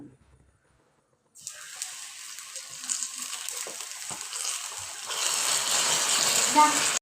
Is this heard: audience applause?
no